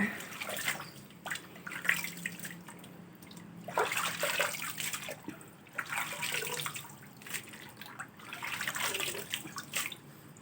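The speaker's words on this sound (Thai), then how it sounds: "ถ้าไม่สะอาดก็ไปล้างอีกนะ" Water runs and splashes steadily while vegetables are washed, a moderately faint, continuous rushing with uneven surges and no talk.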